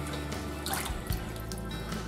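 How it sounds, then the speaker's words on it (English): Cold tap water runs over raw pork in a kitchen sink, a close, steady splashing stream with brief drips and spatters, no talking. "We're going to rinse our pork in cold water,"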